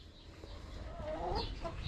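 A Rhode Island Red rooster on a backyard poultry coop clucks and calls briefly at a moderate distance, rising slightly toward the end over faint ambient noise.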